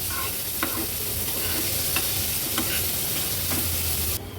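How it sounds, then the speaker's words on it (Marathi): Onion and ginger-garlic crush cooking in a little oil in a pan on a low flame, a soft even sizzle with faint periodic scraping clicks from stirring, close and steady with no talk. "कांदा आणि आलं लसूण क्रश आपल्याला अगदी लो फ्लेमवर शिजवून घ्यायचं आहे"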